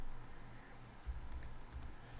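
Quick light keystrokes on a computer keyboard, a handful of soft close clicks tapping in a short irregular burst over a quiet room hum.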